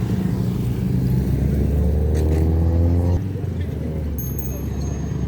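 Traffic moves along a street in Davao City: close vehicle engines rumble and rev steadily, and one drops away partway through, while a person talks over the noise.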